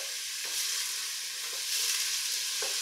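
Onions and carrots sautéing in a pot for chili give a continuous bright sizzle with a few soft stirring scrapes, close and steady, without speech.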